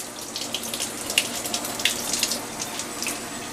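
Water runs from a sink tap into a container in a kitchen, a steady splashing stream with small bright spatters, fairly close and alone.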